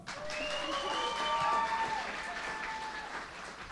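An audience at a talent contest in Miskolc applauds with steady clapping that swells and fades slightly, while faint voices and tones ring over it.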